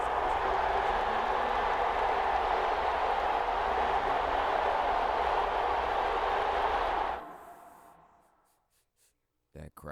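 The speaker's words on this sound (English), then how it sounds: "That crowd noise loud as hell." Stadium crowd noise in an NFL football video game, a loud, continuous roar that holds steady for about seven seconds before cutting off, leaving near silence with a couple of brief clicks.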